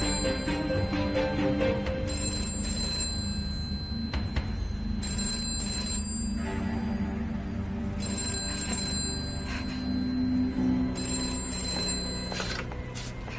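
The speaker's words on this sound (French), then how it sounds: "Le téléphone" An old-style telephone bell rings in repeated bursts, each about a second long and separated by short gaps, clear and prominent over a soft ambient backdrop in a dubbed drama scene.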